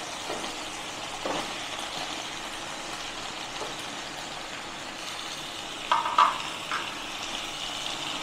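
Potatoes frying in a pan with onion and ginger-garlic paste give a soft, continuous low sizzle, with a few louder scrapes or knocks near the end.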